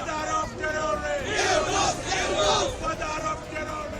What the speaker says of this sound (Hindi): यूनुस गो बैक के नारे भी लगाए गए।